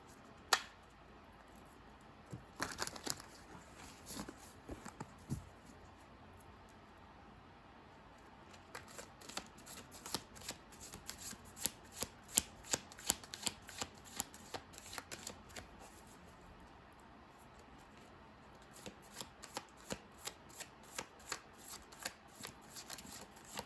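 Tarot cards shuffled by hand, close and quiet, in repeated bursts of quick riffling flicks and soft slaps with short pauses between them.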